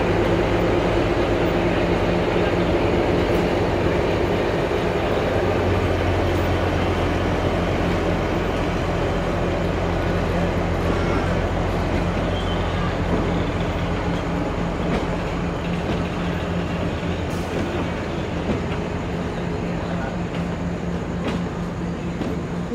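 Kalka–Shimla heritage toy train at Kalka station, a loud steady rumble with a low engine drone and faint rail clatter filling the whole stretch, no voices.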